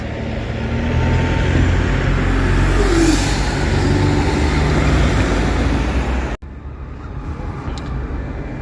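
A Go North East single-deck or double-deck bus passes on a road, a loud, steady engine roar and tyre rumble close by that continues for several seconds, then cuts off abruptly, leaving a quieter background hum.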